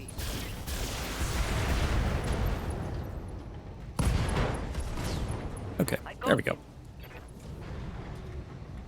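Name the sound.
longbow mech ammo explosion in the BattleTech video game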